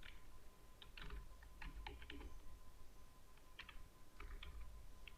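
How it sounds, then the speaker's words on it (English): Typing a folder name on a computer keyboard: quiet, close key clicks in irregular quick bursts separated by short pauses, over a faint steady hum. "Now type your folder name."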